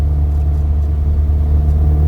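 A restored classic Mini car on the road, its small engine giving a steady, loud, low rumble from inside the cabin with no voices over it.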